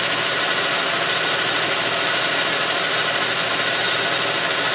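A lathe turns at 864 RPM, taking a steady cut in metal while shaping a Tormach TTS dovetail cutter. The noise is a continuous, even broadband hiss and whir that stays loud and unchanging, with no voices.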